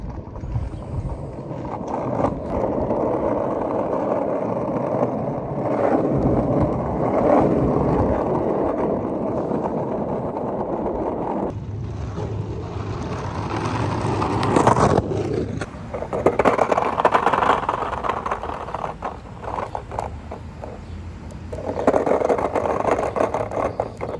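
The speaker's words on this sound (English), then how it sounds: "All that traffic, people driving, cars loud." Steady street traffic on a main strip in the Midwest, cars driving past loudly with a continuous engine and tire roar, swelling as vehicles pass close by, heard alone without talk and roughened by wind on the microphone.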